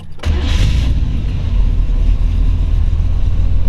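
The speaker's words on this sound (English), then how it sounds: "We're gonna fire it up here, give you one more run." A 1932 Ford Tudor all-steel resto rod with a 350 V8 cranks and fires, catching quickly into a loud, deep, close idle that rumbles steadily to the end.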